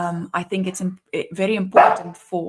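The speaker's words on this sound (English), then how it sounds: "apologies for my dog barking" A pet dog barks in a home during an online economics briefing, its sharp barks mixed in and partly masked under continuous close male speech.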